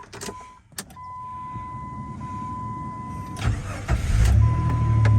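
A 2000 Jeep Cherokee starting up: a steady chime runs first, then the starter cranks briefly and the engine catches with a rising roar before settling into a loud, close idle.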